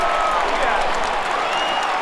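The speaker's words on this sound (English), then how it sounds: "this crowd will not go away" Baseball stadium crowd noise from the MLB 2K8 video game, a steady wash of distant applause and cheering under a play-by-play commentator's voice.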